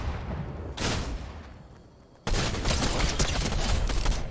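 Gunfire in the video game Fortnite: a sharp burst near the start, then a loud, dense, continuous barrage of shots filling the second half, close and unbroken.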